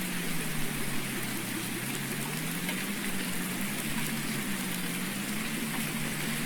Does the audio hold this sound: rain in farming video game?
yes